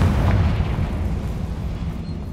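A Confringo fire spell bursts in Hogwarts Legacy, a loud low rumbling explosion whose deep boom swells at once and then rolls on steadily without a break.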